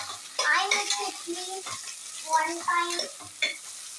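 Onions sautéing in a pan until browned for a tomato biryani, a soft sizzle with scraping stirs of a spoon against the pan in short bursts, close and fairly quiet.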